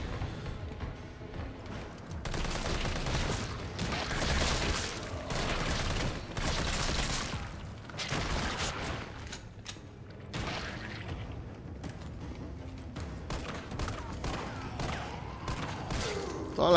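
Dense bursts of gunfire and booming shots fill the Resident Evil 3 Remake game, coming in rapid clusters with short pauses between volleys, loud and close throughout.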